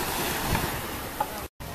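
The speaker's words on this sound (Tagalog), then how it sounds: "Tingnan natin yung alon." Ocean waves wash onto Boracay beach in a steady surf hiss mixed with wind, with a short dropout near the end.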